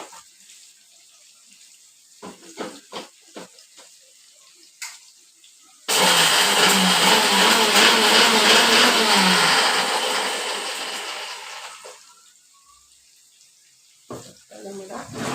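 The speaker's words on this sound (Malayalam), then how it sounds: "നമുക്ക് ഉലുവയും കടുവും കൂടെ മിക്സിയിൽ തന്നെ പൊടിച്ചെടുക്കാം." A kitchen mixer grinder grinds fenugreek and mustard seeds for an oil-based mango pickle, with a loud, steady whirring roar that starts abruptly after some quiet handling noises, holds for several seconds, then winds down and stops.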